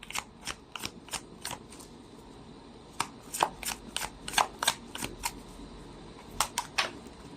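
Tarot cards being shuffled close by, with crisp riffling flicks and soft slaps coming in irregular bursts and short pauses, with no talking.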